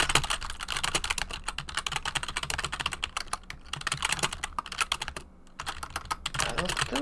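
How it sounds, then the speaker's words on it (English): Rapid, close typing on a computer keyboard, dense clusters of clicky keystrokes with a brief pause near the end, under faint background sound. "Yeah, I'm typing orders right now."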